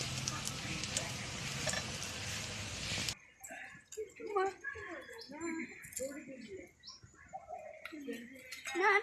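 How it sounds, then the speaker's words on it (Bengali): Onion rings dropped into hot oil give a dense, loud hissing sizzle for the first few seconds. The frying then fades low while a person talks over faint crackles. "আবারও ঠিক আমি ওইভাবেই তেলে ছেড়ে দিচ্ছি।"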